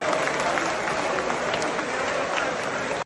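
Sustained applause fills a parliament chamber, a dense, steady clatter of many hands clapping for about three seconds with a faint crowd murmur beneath.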